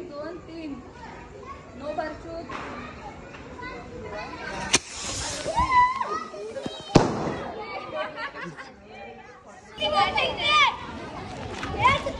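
Diwali firecrackers crack and pop outdoors during a festive night, scattered sharp bangs and a fizzing burst among the chatter of children playing and talking nearby.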